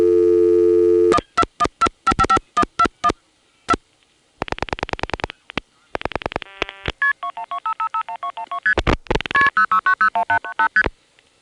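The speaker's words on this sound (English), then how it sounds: "let's dial 1 plus" Touch-tone digits are dialed on a coin telephone in Prince William County, Virginia, running through the 0+ dialing system: a dial tone, then rapid bursts of paired beeps, followed by switching tones and chirps from the exchange.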